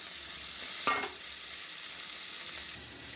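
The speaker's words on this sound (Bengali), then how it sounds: "পেঁয়াজ জিরার ভেতরে দিয়ে দিলাম একটা বড় পেঁয়াজ ঠিক আছে একটুখানি নাড়া চাড়া দিয়ে" Onion sizzles with cumin seeds in a hot pan, a constant close frying hiss with one brief scrape as it is stirred.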